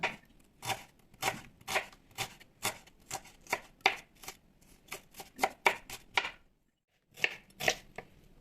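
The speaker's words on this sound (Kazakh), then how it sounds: "Пиязды жіңішке етіп, өте ұсақтап турауымыз қажет." A knife finely chops onion on a board in quick, evenly spaced strikes, close and crisp, with a brief pause before a few more chops resume.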